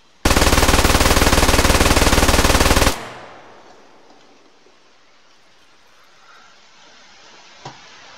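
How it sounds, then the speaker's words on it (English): A Mosin Nagant M38 carbine fires in a video game, a dense, loud burst of sustained gunfire lasting about three seconds, then an echoing tail fading into quiet ambience with a faint click near the end. "The Mosin Nagant M38,"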